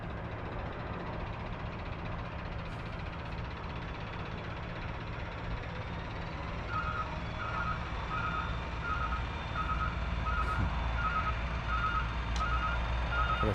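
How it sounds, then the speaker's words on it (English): A concrete truck arrives at a job site on concrete day, its engine rumbling low throughout while a regular series of reversing beeps starts partway through and repeats steadily as it backs in. "Here comes our truck."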